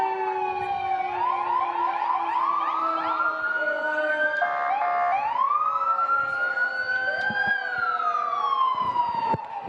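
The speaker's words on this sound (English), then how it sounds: "if you can hear the sirens of both our police officers and even more of our firefighters" Police and fire truck sirens wail continuously during a parade, several overlapping rising and falling tones sounding loud and close with a steady traffic rumble beneath them.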